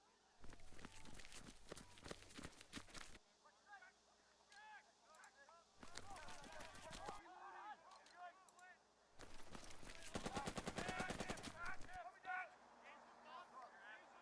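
Rapid bursts of automatic gunfire in the wartime strategy game Burden of Command come in three clusters, separated by stretches where someone talks over quieter battle noise.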